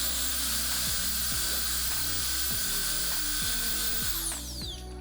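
An SDFM turbo fan runs blowing over a bowl of dry ice, giving a steady high whirring hiss with a repetitive clicking, ratchet-like mechanical pulse underneath, close and continuous.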